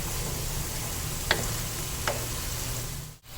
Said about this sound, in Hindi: ये देखें जैसे जैसे मैं इसकी भुनाई कर रही हूँ, ये देखें ऑयल ऊपर आता जा रहा है